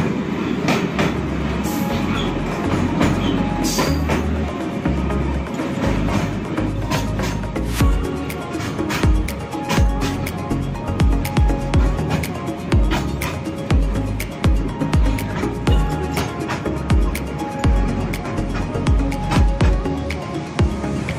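A train rolls through Kharagpur railway junction with a loud, continuous rumble and rapid clickety-clack of wheels over rail joints, close by and alone, with no voices.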